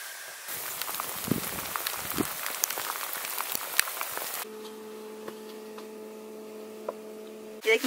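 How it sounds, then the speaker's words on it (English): Rain falls steadily outside a tent high on Mount Saint Helens, a soft continuous patter with scattered drops. Partway through it grows fainter and a low steady hum joins it. "The rain is coming down."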